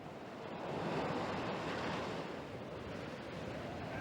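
Wind and waves on the open sea roll in a continuous, broad rushing wash, swelling slightly and then easing, with steady gusty wind noise layered over the surf.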